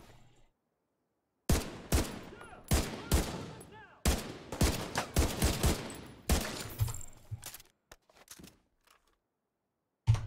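Semi-automatic gunfire in The Division 2 video game, rapid bursts of sharp, loud shots in quick irregular clusters with brief silent gaps between volleys, heard up close.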